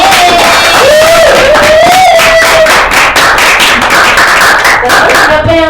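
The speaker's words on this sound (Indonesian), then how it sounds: "Ya, tepuk tangan semua." A primary school class applauds during a microteaching lesson, with loud, dense, rapid clapping from many hands close by, mixed with a sustained voice and crowd chatter throughout.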